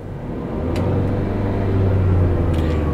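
A car engine with an excess-NOx sensor fault is revved from idle, producing a loud, steady low rumble that swells gradually as it accelerates.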